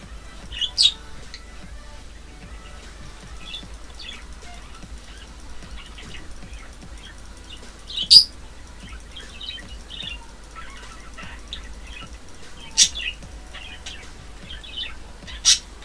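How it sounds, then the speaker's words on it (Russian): Pet parrot indoors giving scattered sharp chirps and a few louder squawks, spaced irregularly over a quiet room hum. "да блин, попугай!"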